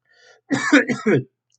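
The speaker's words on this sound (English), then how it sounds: "The more I talk, the more I cough." A person with a cold gives a short burst of throaty coughs, three or four quick hacking bursts close to the microphone, followed by silence.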